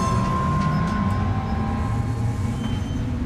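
A monorail train pulls away in Death Stranding 2, a steady low rumble with faint rail hum and a thin whine, constant in level throughout with no talk.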